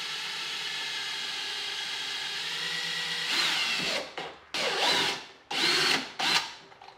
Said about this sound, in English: we're just going to drill our 3 holes straight through